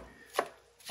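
Two crisp chops of a sharp Damascus steel knife cut through peppers on a cutting board, spaced about half a second apart, close and clear with no talk.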